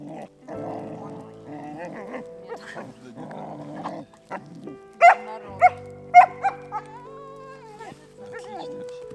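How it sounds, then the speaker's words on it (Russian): A dog barks somewhere ahead on a rock in a damp winter forest. Several sharp, fairly close barks come in a quick cluster after a stretch of people talking. "Собака лает, как обычно, где-то впереди, на камне."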